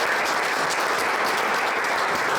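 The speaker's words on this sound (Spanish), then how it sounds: "Le doy el pase al ingeniero con unas fuertes palmas" Steady, dense applause from an audience at a technical presentation in Lima, Peru, welcoming an engineer to speak; even and continuous throughout with no breaks or voices.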